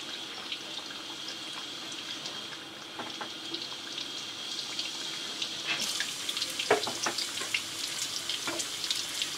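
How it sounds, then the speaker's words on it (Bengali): Pangas fish fingers deep-frying in hot oil until browned and crisp: a steady, close hiss of bubbling oil, with scattered pops and crackles that grow busier in the second half. No one speaks. "হয়ে গেছে আমার এই চপগুলি ভাজা, এবং বেশ ফুলে গেছে এবং মচমচা হয়ে গেছে"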